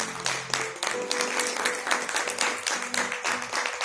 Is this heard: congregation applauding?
yes